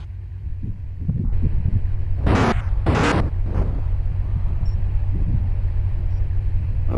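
A racing video game car engine drones in a loud, steady low rumble throughout, with two short, bright bursts of noise breaking in partway through and no talking.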